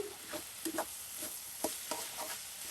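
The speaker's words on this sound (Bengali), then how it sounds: "ভাজি রান্না করছি" Potato and cauliflower bhaji being stirred in a frying pan, with soft scattered scrapes and light sizzling taps in a quiet kitchen, no voices.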